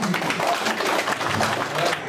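Birthday applause for Professor Châu at a gathering, steady dense clapping from a crowd sustained evenly throughout, with some voices mixed in.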